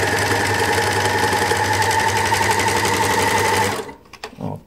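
An overlock serger runs at speed stitching fabric with the presser foot lowered, a loud, steady mechanical whir with a rapid rhythmic knock that stops abruptly near the end.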